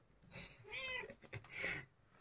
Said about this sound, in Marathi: मांजर पिल्ली कुठे ओहो 3 आहेत 2 आहेत